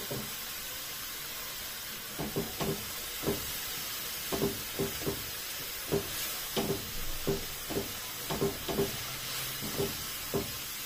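Chopped onion fries in ghee in a pan, giving a soft, steady sizzle broken by short intermittent clicks of stirring, with no talking.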